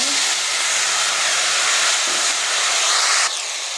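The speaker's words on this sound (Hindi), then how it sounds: "अदरक लहसुन को डाल के अच्छी तरह फ्राई कर लीजिए जी।" Ginger garlic paste frying loudly in hot oil, a steady close hiss and sizzle that runs throughout, easing slightly near the end.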